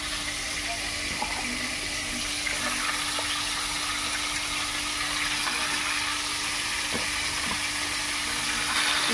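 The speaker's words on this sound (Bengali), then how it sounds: "এদিকে আমি চিকেনটা ভাজতে দিচ্ছি। চিকেন ভেজে রান্না করবো।" Chicken pieces fry in a hot pan, producing a constant, even sizzle and hiss close by, with faint pops and crackles scattered through it.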